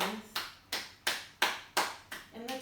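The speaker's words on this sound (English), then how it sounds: "coming all the way down and clapping your hands" Seven sharp hand claps at a slow, even pace during a yoga session, fairly close in a quiet room.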